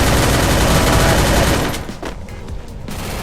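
Rapid bursts of gunfire in the Free Fire video game, loud and continuous at first, then thinning into a few scattered shots and clatter.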